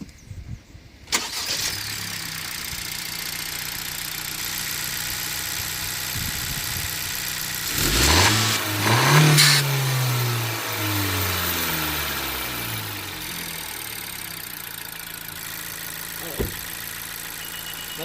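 A 2018 Honda Civic Si with a Torque Solutions spacer, heard nearby as the engine starts partway through, then briefly revs and settles into a steady idle.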